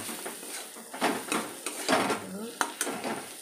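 Onions and chillies, fresh and dried, being stirred in a frying pan, a steady sizzle broken by several sharp scrapes and taps of a spoon against the metal, close and moderately loud.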